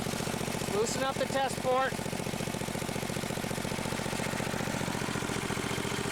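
A 12-volt trommel highbanker's water pump engine idles low and steady, a continuous mid-pitched drone close by while someone speaks over it.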